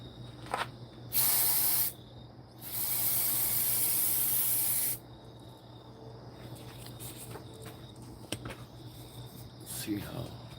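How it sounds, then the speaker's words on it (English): Spray paint hisses from an aerosol can onto elevator doors to give them a rust effect for a yard haunt scene. Two loud, close bursts run about one and two seconds each, followed by quieter handling sounds and faint talk. "it is like regular spray paint"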